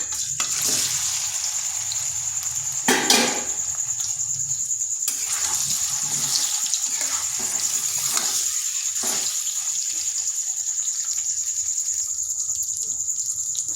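Mango pieces fry in hot oil with black cumin for a sweet-sour pickle, a constant close sizzle with a few bursts of stirring and spattering, no voices.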